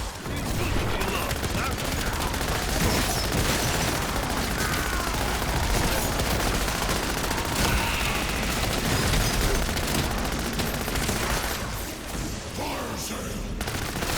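Rapid automatic gunfire from an MP40 submachine gun in Call of Duty Zombies, dense and continuous across the clip, loud and close with explosive booms mixed in among the game effects.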